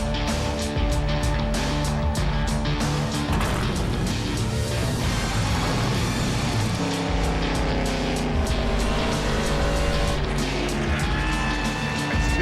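A Ford car driving fast on a speedway track, a loud continuous engine roar that rises and shifts in pitch, with high whining tones late on and no talk.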